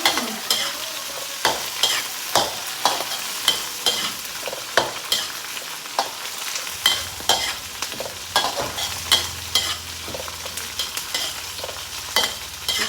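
Hummingbird tree flowers (dok khae) are stir-fried in a pan, with a spatula scraping in a quick steady rhythm over soft sizzling, close up and without talk.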